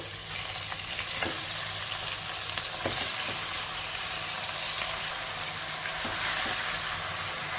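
Chicken sizzles loudly in a pan with fried onion slices over high flame, a continuous dense crackle broken by periodic scraping strokes of a stirring spoon, close and with no voices.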